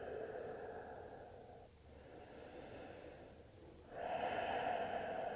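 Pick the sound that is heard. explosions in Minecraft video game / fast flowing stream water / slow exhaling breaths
slow exhaling breaths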